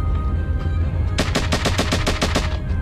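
Rapid automatic gunfire in the video game Aliens vs Romans, a loud burst of about ten evenly spaced shots after a quiet start.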